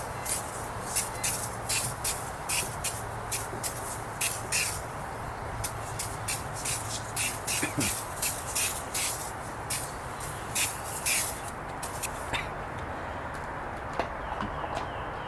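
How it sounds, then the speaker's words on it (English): Short repeated hissing bursts of car cleaner from a spray can are applied to an FJ Cruiser, rapid pulses close by with brief pauses between runs. "Next I use the spray can version. And this stuff is like really easy to apply"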